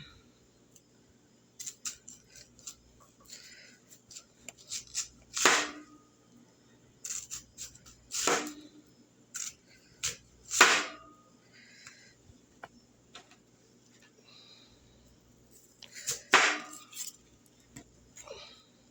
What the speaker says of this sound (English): I'm going to show you how I cut this lovely onion.